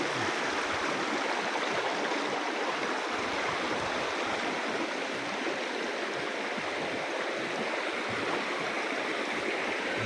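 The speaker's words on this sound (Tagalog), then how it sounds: "Tubig na buhay. Galing sa ilog." Steady, full rush of river water flowing continuously, loud and close with no voices over it.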